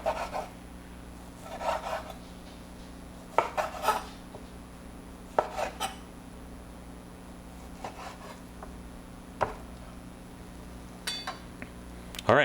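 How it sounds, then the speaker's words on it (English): A sharp knife chops a cooked egg into pieces on a board, giving irregular crisp taps and scraping strokes spread across the clip over a steady background hum, close by, with no talking. "As you can tell, my knife is really sharp, so it's not slipping. It's going straight through"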